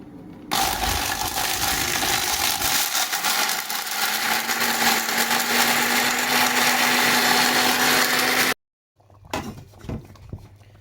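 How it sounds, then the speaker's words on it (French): A kitchen blender runs loud and steady, pureeing onion pieces with salt for a dried okra sauce. It whirs continuously with a rising pitch, then stops abruptly, and a few clatters and handling noises follow. "Je vais mettre le tout au mixeur avec du sel."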